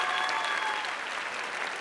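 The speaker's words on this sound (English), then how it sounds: "one more big round of applause" Applause from an audience at a national STEM championship, a steady broad wash of clapping from a crowd, moderately loud and continuous, with no talk over it.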